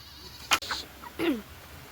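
A goat bleats on a farm, one short cry preceded by a sharp knock, then a second longer bleat a moment later, close and fairly loud over quiet surroundings.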